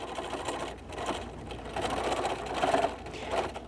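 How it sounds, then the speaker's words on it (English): A sewing machine runs in short bursts while back stitching the seams of a fabric microwave potato bag, forward and reverse, with a steady close mechanical whir throughout. "We're going to stitch, and I'm going to go back stitch"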